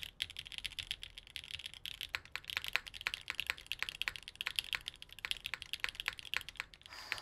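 Close, fairly quiet clatter of typing on a mechanical keyboard with a soft feel, with quick uneven runs of keystrokes and a few heavier clacks that continue throughout.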